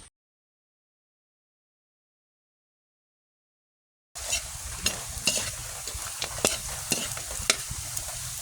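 Kangkong (water spinach) is sautéed in a pan and sizzles close by with brisk stirring scrapes, starting suddenly after about four seconds of silence and continuing steadily with no talk.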